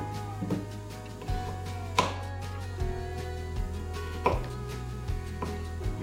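Onion being chopped with a knife on a Blackstone griddle while hibachi vegetables are prepared, a series of separate close knife strikes against the flat metal surface over a low steady hum.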